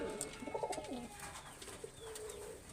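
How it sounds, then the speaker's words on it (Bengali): A racing pigeon coos softly in a short series of low, throaty warbles, quiet and close with faint background noise. "একেবারে বন্ধ দামের কবুতর এটি"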